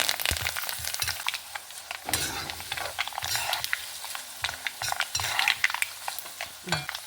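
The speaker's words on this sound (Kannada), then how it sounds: "ಒಗ್ಗರಣೆ ಚಪ್ಪೆ ಆದ ಕೂಡಲೇ ಎಲ್ಲ ಮಿಕ್ಸ್ ಮಾಡಬೇಕು." Oil tempering of mustard seeds, chana dal, urad dal and curry leaves for ginger chutney crackles and sizzles in a pan while a spoon scrapes and stirs it steadily, with clinks of metal throughout and no talking.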